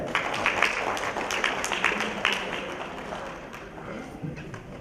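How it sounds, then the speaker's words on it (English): Audience applause at a women's awards ceremony, a dense, steady wash of many hands clapping for several seconds, close and fairly loud with a few sharper individual claps poking through. "Ladies and gentlemen, please put your hands together."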